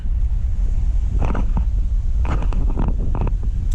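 Strong wind buffets a moving Smart car, a loud, constant low rumble with gusty roar, broken by a few brief rattling bursts midway and toward the end, with no talk.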